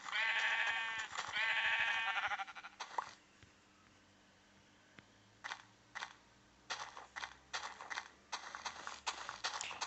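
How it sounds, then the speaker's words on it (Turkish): Sheep in the video game Minecraft bleat in two loud, wavering calls close together at the start, followed by quieter clicks and soft game noises. "Koyun."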